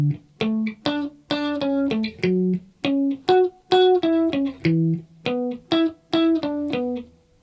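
Clean single-note electric guitar plays a melody without clicky muted notes, a steady rhythmic run of about twenty short, clearly separated plucked notes played alone.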